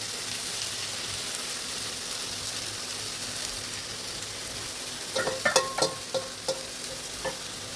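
Beaten egg is added to cauliflower frying in a pan: a quiet, even sizzle runs under a burst of clattering spoon strokes as the mixture is stirred.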